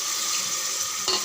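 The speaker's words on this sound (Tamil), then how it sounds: "ஒரு 2 நிமிஷம் வதங்கினா போதும்" Tomato, mint and coriander leaves sautéing in a pan, a brief steady sizzle with a small stir near the end, no voices.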